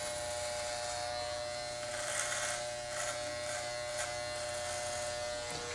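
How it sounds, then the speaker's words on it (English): A small Andis electric hair clipper buzzes steadily at close range while trimming hair short during a haircut, a constant hum with slight changes as it moves, with no talk. "Take my little Andis shaver."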